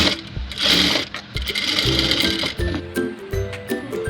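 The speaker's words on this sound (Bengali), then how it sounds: "এখন আমি এখানে সেলাই করে দেবো।" A sewing machine stitches the body of a frock, running in a close, steady rhythmic chatter with short pauses and restarts, no talk over it.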